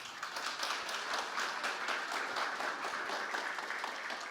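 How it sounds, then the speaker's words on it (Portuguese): A crowd at a lecture applauds steadily, a dense wash of many hands clapping throughout without letting up. "uma salva de palmas para as mulheres"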